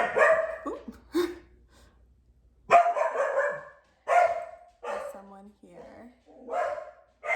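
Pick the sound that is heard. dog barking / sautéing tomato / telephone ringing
dog barking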